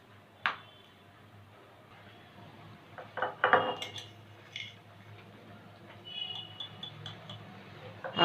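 A spoon stirs ground poppy seed and melon seed paste in a cooking pan for a cauliflower curry, making sparse, quiet clinks and scrapes of metal on the pan, with a cluster of sharper knocks partway through.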